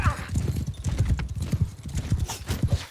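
Horse hooves gallop in a fast, even clip-clop rhythm during a siege battle in the video game Mount and Blade Bannerlord, loud and close, with a voice talking over them.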